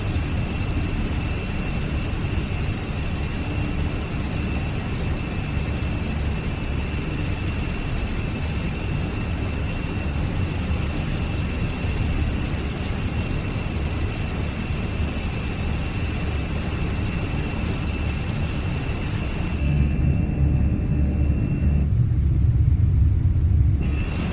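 Steady deep rumble of an Airbus A340-600 airliner in the X-Plane 12 flight simulator, a continuous heavy engine drone with a thin steady whine, unbroken and fairly loud for the whole stretch, no voices.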